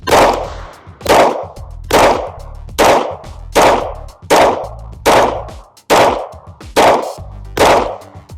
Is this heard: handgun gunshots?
yes